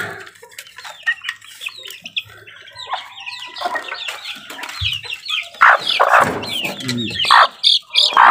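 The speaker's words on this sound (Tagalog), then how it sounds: "Isa nating sisiw." A farm chick and several grown chickens, including white-gray and asil crosses, cluck and peep close by in quick, uneven bursts that grow louder and busier toward the end, with a voice briefly talking in the background.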